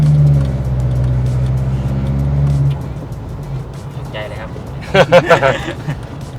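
An Isuzu D-Max 1.9 diesel pickup with high mileage and black smoke revs at half throttle, a loud steady drone for a few seconds before settling to idle while people talk nearby.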